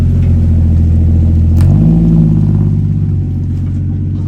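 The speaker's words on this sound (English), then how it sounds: "when you chuck a turbo on the side, not only does it sound similar to a Barra, but it also has that grunt to it" A turbocharged Toyota Landcruiser 1FZ straight-six engine idles with a deep, steady rumble, then revs up sharply partway through and settles back. The sound is loud and close, with no talking.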